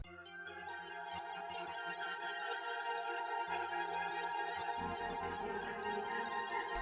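A dense electronic beat made in FL Studio, processed with the Portal plugin's digital tape preset, with sustained synth layers and a steady low pulse, slightly warm and saturated, playing continuously without any voice.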